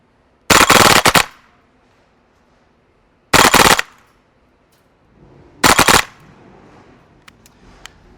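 An Elite Force H&K MP7 Gen 2 gas blowback airsoft PDW fires three separate full-auto bursts, each a loud rapid rattle lasting under a second, with quiet gaps between them and faint handling clicks at the end.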